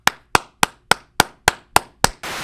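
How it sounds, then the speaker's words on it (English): Eight sharp hand claps at a steady, even pace, each crisp and close, ending in a brief burst of noise; no talking. "Are you clapping for me?"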